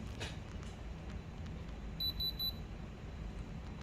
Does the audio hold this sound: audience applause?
no